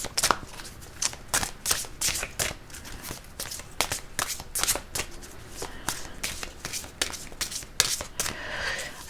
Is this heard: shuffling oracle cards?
yes